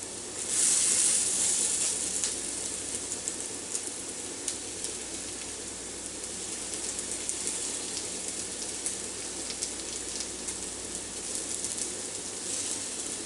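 Salmon patties frying in a pan, a continuous crackling sizzle with fine popping, steady and close, with no talking.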